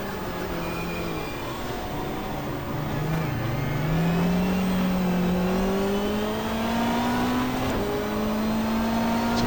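A race car in the GTR2 racing game pulls into the pits at Pukekohe, its engine droning close and steady, the pitch sagging briefly and then climbing smoothly throughout.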